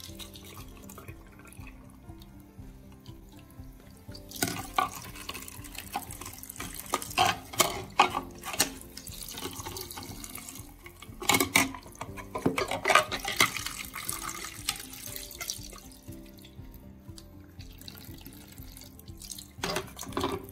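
Cold tap water running into the tank of a Samsung Jetbot robot mop, with trickling and splashing that builds into louder bursts of flow and drips over about twenty seconds, close by and with no talking.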